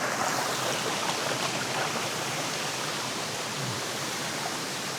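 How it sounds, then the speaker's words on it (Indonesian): Clear stream water runs continuously past a savanna campsite, a close, steady rushing wash that stays even and unbroken throughout. "Aliran airnya bening banget."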